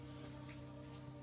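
Steady rain at the Aso volcano crater station in Japan, a soft continuous patter of drops on surfaces, faint and even throughout with a low background hum.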